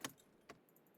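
Truck keys jangle in the My Winter Car video game: two short metallic rattles close by, with a faint engine hum fading underneath.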